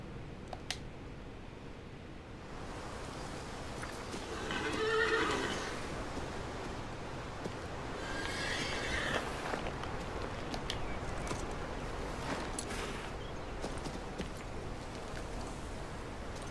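Horse neighing with hoof clip-clop in the fantasy video game King's Bounty 2, two whinnies standing out over a steady outdoor ambience bed, with footsteps and movement continuing throughout and no talking.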